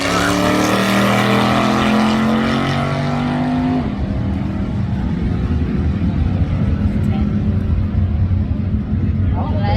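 Drag racing engine roaring at a dragway, loud and sustained with a falling pitch sweep as the car runs off, then a rough broadband rumble continuing throughout; a commentator talks over it.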